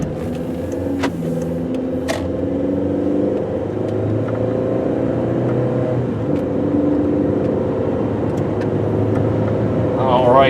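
A 2002 VW Beetle GLS coupe accelerates along a road toward about 50 mph, its engine a steady drone with rising tones over continuous road and cabin noise.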